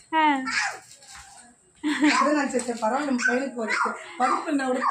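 A child imitates a dog, giving a rising whimpering yelp and then a run of short bark-like yips and howls close up, with a quiet pause between.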